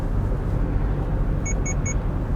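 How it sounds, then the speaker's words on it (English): Inside a moving Subaru, the EyeSight lane departure warning gives three quick, evenly spaced high beeps over the steady road and engine rumble of the cabin. "Now this basically will notify you when you leave your lane."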